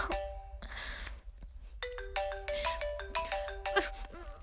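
A mobile phone ringtone signals an incoming call with a bright, melodic series of repeating tones that plays for several seconds at moderate loudness, over low background rumble.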